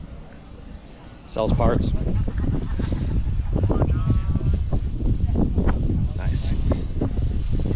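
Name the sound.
Chevrolet C-10 pickup truck with LS V8 engine running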